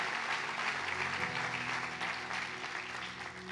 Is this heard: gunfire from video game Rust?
no